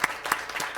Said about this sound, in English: So I want to give a round of applause.